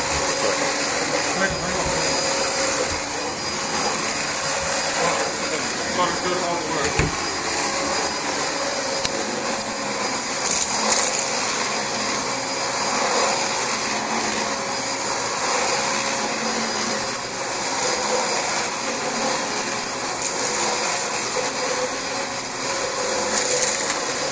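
A six-year-old Dyson DC25 upright vacuum cleaner runs continuously with a loud, steady, high-pitched whine and airy roar throughout.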